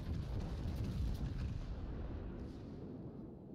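Bismarck's secondary battery firing in World of Warships at sea, a heavy rolling barrage of booming naval gun blasts that swells early and then tails off into rumbling.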